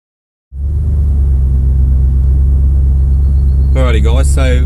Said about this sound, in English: we're cruising through the bush here at the roving around 4x4 farm